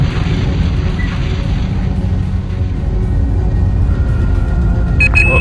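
A deep rumbling explosion and low engine roar from the combat video game Battlezone 98 Redux, a sustained heavy boom that fills the scene, with brief faint electronic chirps near the end.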